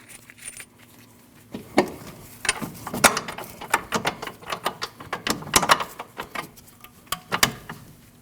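Hand ratchet clicking as it tightens the top bolt on a 2003-2008 Subaru Forester front strut assembly, bursts of sharp close metallic ratcheting in irregular runs, no talk.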